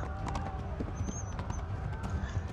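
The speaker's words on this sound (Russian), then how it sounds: "Хоть на лошадь скакать умеет." Horse hooves gallop in the medieval video game Kingdom Come: Deliverance, a steady stream of soft thuds under a constant game ambience.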